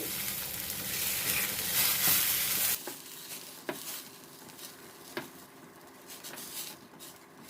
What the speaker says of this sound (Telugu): ఈ నూక ఉంది కదా దీన్ని ఇందులో కొద్ది కొద్దిగా వేస్తూ కంటిన్యూస్గా కలుపుతూ కొద్ది కొద్దిగా వేయాలి